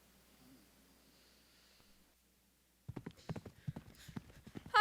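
Horse hooves clip-clop in a quick, steady rhythm after about three seconds of near silence, starting suddenly and growing close and fairly loud, with a brief louder burst at the very end.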